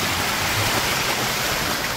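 A monsoon-flooded river in Konkan rushes past a temple ghat, a loud, dense, unbroken roar of churning water that fills the whole moment, with no voices.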